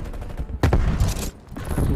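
Bursts of video game gunfire crackle in quick volleys, loud and close, with a short lull between rapid shots and no speech.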